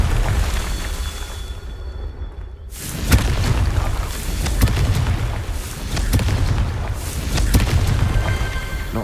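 Confringo fire spell explosions in Hogwarts Legacy during a Merlin trial: after a brief hush, a heavy burst erupts, followed by a series of booming blasts and crackling impacts that keep rumbling loudly.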